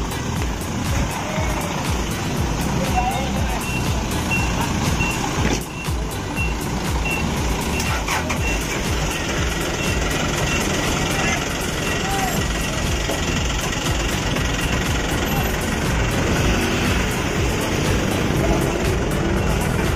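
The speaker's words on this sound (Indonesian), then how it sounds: "Nah, ini persiapan mau diparkir terlebih dahulu armadanya nih." A Mercedes-Benz OC 500 RF 2542 coach with a Jetbus 3 SHD body reverses to park, its loud reversing alarm beeping in a steady rhythm over the rumbling engine while people talk nearby.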